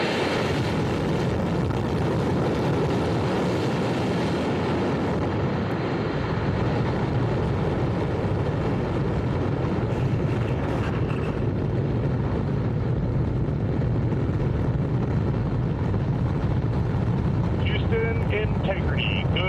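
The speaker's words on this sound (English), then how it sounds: "GLS is go for core stage engine start." Artemis II rocket launch, with the core stage engines firing as a loud, continuous broadband roar that holds steady throughout, with faint voices over it.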